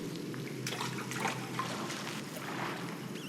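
Water sloshing and trickling in Scanner Sombre, a steady, moderately close wash of liquid noise that runs through the whole stretch with small ripples and splashes.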